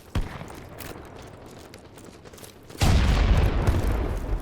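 Gunfire and bomb explosions in the BattleBit Remastered shooter game: a sharp shot near the start, scattered distant crackle, then a heavy rumbling blast that swells and sustains to the end, loud and unvoiced.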